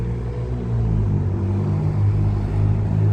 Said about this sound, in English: car sound like a motorcycle or something